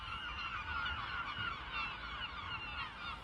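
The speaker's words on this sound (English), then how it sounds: "the birds there make a lot of noise" Geese honking continuously as a dense, steady flock chorus, moderately loud and with no voices over it.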